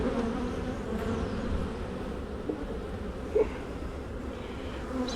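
Honeybees hum steadily inside an opened active hive with plenty of bees and a queen present, a close, continuous buzz with a few louder passes of individual bees.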